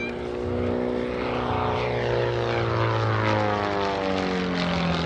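A 200-horsepower, roughly 1,200-pound aerobatic propeller airplane drones steadily and loudly at an airshow in Culpeper, its pitch shifting slightly as it backs up and maneuvers nearby.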